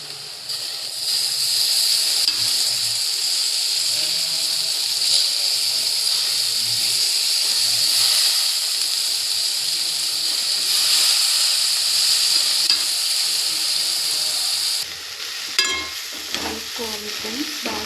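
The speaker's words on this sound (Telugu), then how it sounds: "ఎండు రొయ్యలు ప్రాన్స్ తీసుకొని అందులో వేయాలి." Dried prawns sizzle and hiss steadily in a hot pan with chilli powder, a loud continuous fry with occasional stirring scrapes, the sizzle dropping away near the end.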